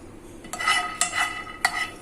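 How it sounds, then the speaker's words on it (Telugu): Peanuts being dry-roasted in a hot pan and stirred with a metal spatula, giving three sharp scraping clatters against the pan over a low background sizzle, close by with no talking. "ఇప్పుడు ప్యాన్ వేడి చేసుకొని పల్లీలని వేయించుకుందాం"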